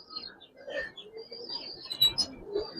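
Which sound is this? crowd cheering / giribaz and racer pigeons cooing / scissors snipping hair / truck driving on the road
giribaz and racer pigeons cooing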